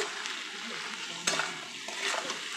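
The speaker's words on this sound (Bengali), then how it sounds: "হলুদ গুঁড়ো দিয়ে দিলাম ভালো করে নেড়ে নেব" Vegetables fried with turmeric and salt for a fish-head and greens dish are stirred in a pan, soft scraping and light sizzling close by, with a few sharper utensil knocks against the pan.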